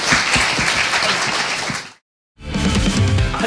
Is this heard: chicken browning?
no